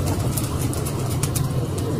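Pigeons coo steadily in a loft where birds are kept for sale, a soft continuous murmur of cooing close by over a constant low rumble, with no voices.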